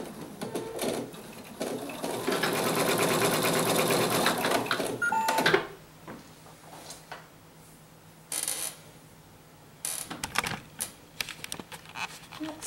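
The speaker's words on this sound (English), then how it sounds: "the next thing that's going to happen is it's going to stitch out this little rectangle" An embroidery machine stitches a small rectangular placement strip for a raccoon mug rug, a steady rapid needle chatter running loud for about five seconds before stopping, followed by quieter scattered clicks and handling noise.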